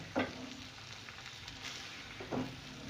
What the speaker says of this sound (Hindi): और अब मैं गैस की फ्लेम थोड़ी सी तेज़ कर इसको भून लूँगी लास्ट।